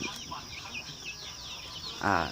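Seven-week-old Roman Brown laying hens cluck and chirp softly in a pen, forming a continuous, slightly distant flock chatter. A brief burst of voice comes near the end.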